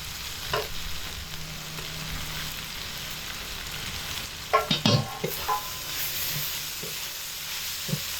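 Okra being fried and stirred with coconut and ginger paste, giving a soft, steady sizzle. A cluster of louder spoon scrapes and clatters lands midway, and a few lighter knocks follow later.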